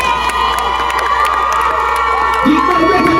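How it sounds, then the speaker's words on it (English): A carnival crowd at a dancehall show in St. Ann cheers and shouts loudly and continuously, with whoops and children's yells rising toward the end. "Give a round of applause to that."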